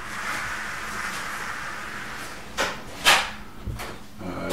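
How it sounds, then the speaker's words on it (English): A door is shut inside a quiet building, giving a few close knocks and a dull thud over a low steady hiss, with no one talking. "go ahead and shut the door on me, Ray."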